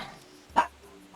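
A single short dog bark rings out once, moderately close, amid the quiet sounds of a Super Mario Sunshine speedrun session.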